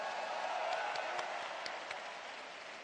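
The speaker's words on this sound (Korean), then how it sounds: "여러분 큰 박수 부탁드립니다" Audience at a Democratic Party primary rally in Chungcheong applauds steadily, a dense wash of clapping heard from a distance, fairly quiet and fading slightly toward the end.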